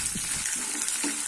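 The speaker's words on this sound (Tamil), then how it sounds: "இது கொஞ்சம் வதங்கட்டு வெங்காயம்." Onion and garlic sauté in hot oil in a pan, a short close sizzle with a few soft stirring scrapes, no voices.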